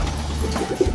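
Domestic pigeons coo around a large water bowl set out for their bath, a short low warbling call close by over a steady background murmur.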